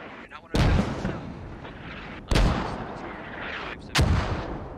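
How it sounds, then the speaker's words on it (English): Mortar rounds booming in the video game Squad, with three loud, close blasts spread across a few seconds, each followed by a rumbling decay. "Mortar lands really close to Silent again."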